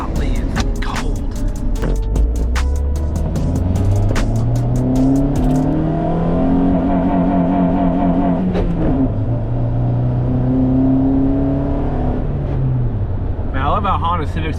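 A Honda Civic accelerates hard through the gears, its engine rising in pitch, dropping at each shift and climbing again, loud and close inside the car as a person talks.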